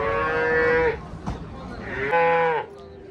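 A cow at a livestock bazaar gives two drawn-out moos, each about a second long, close and fairly loud. A brief knock falls between the moos, and market noise sits faintly underneath.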